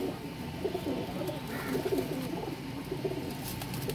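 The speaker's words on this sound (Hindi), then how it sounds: "ब्लीडर कबूतर हैं ये सारे।" Several pigeons coo softly and continuously in a quiet setting, their low, murmuring calls overlapping in a gentle, steady rhythm with no one speaking.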